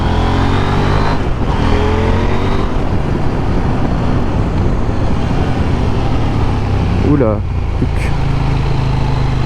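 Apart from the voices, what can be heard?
KTM 890 Duke R motorcycle engine revving while riding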